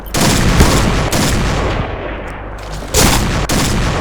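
Continuous loud gunfire from a shooting video game, sustained bursts of rapid shots across the whole stretch with sharp louder volleys near the end.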